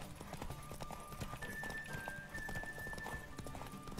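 Horse galloping in The Witcher 3 during a race, rapid rhythmic hoofbeats over a steady backdrop with a faint whinny partway through, close and continuous.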